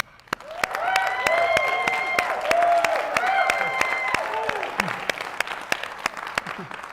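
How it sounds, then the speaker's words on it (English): An audience at a city mayoral candidate forum applauds, with scattered sharp claps in a moderate room while a voice talks over them. "So I really want to give them a round of applause as we introduce them all."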